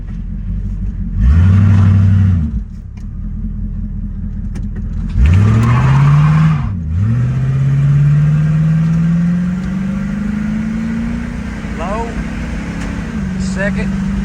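A 1970 Pontiac LeMans engine revs loudly through the gears up close. Rising and falling roars come with each shift, and a long climbing pull leads into a steady drone.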